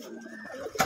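A single pigeon, a hen bird, gives a brief soft coo close by, with a short sharper sound at the end.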